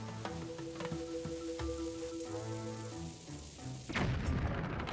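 A bomb explodes in The Legend of Zelda: Skyward Sword on the Wii, a low booming burst under a game soundtrack of sustained tones, followed near the end by a loud crackling rush of debris.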